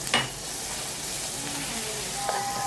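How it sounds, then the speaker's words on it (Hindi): Garlic lightly frying in a tablespoon of oil in a pan gives a soft, steady sizzle, with a brief clink of utensils near the start and near the end. "इसमें हम लहसुन ऐड करेंगे,"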